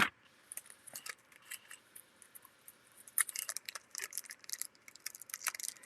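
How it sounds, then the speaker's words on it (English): Close, quiet snipping and crinkling of scissors cutting open the thin wrapper of a Topps baseball card pack, in short irregular bursts with brief pauses, no talking. "So I will use these scissors very carefully."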